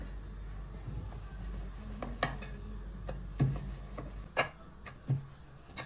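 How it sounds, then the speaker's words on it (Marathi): Potato paratha dough rolled out with a rolling pin on a board, repeated soft rubbing strokes with a few wooden knocks and clatters, close up and with no speech. "पुरी एवढे लाटून घेऊया."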